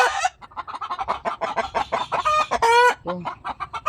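Chickens cluck busily at close range, a rapid string of short calls with a few louder, drawn-out squawks.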